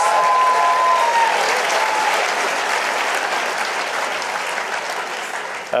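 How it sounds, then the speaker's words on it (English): A large conference audience at a global forum plenary gives a round of applause, dense continuous clapping that fills the hall loudly from start to finish before tapering slightly at the end. "One more round of applause"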